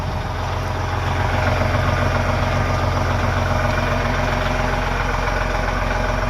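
A truck engine with a check-engine-fluid warning runs at a steady idle, a loud, close, low rumble with constant vibration and no change for the whole stretch.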